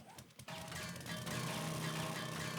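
An auger drills in the video game 7 Days to Die, a steady mechanical grinding whir that kicks in after a brief quieter start and holds loud and constant to the end, with no talking.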